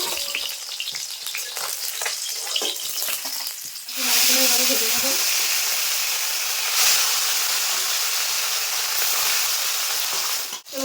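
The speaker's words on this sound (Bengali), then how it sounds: "তুলে বাকি মাছটা এভাবে ভেজে নেবো" Fish frying in hot oil for a mustard-poppy seed fish curry, starting with scattered clatter and stirring, then a loud steady sizzle from about four seconds on that continues with small bursts to the end.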